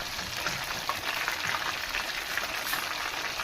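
Fish frying in hot oil in a pan after being turned to its second side, a steady, close crackling sizzle with no voices.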